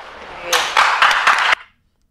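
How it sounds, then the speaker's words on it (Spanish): Studio audience on a Spanish television talk show breaks into brief, loud applause, sharp claps swelling in a few pulses over about a second before stopping abruptly and leaving silence. "Qué aplauso tan facilón"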